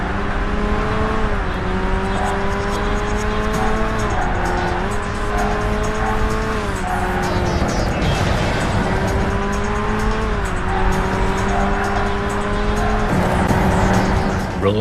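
Engine of a car in a lap of the Cliffhanger track in the PS2 racing game Burnout, a steady loud drone with rising and falling gear-change sweeps and occasional tire squeal throughout.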